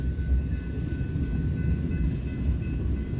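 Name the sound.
eastbound Union Pacific freight train passing, rear end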